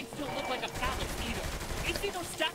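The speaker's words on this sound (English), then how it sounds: "Let's try this submachine gun." A submachine gun fired up close in Saints Row the Third, a continuous rattling burst under game sound and a low rumble.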